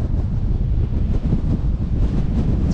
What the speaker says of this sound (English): It's very, very windy, but you can always walk up there.